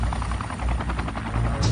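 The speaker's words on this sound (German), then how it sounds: "Sie identifizierten sie eindeutig als Chinooks, Schwerlast-Hubschrauber der Air Force." Air Force Chinook heavy-lift helicopters thudding steadily with rapid rotor beats, a dense continuous drone that stays loud and close throughout.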